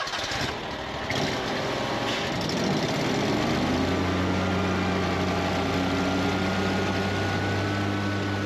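A zero-turn mower with a Kawasaki EFI engine and a 72-inch cutting deck runs steadily while mowing, a loud continuous engine drone that settles into a sustained hum after the first second, with no talking.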